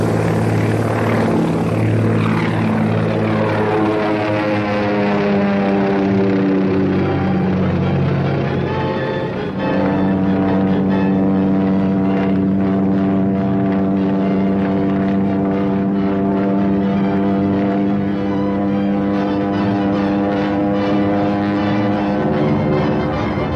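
The engine of a 1939-era propeller plane drones steadily and loudly throughout, its pitch slowly shifting as it runs continuously without pause.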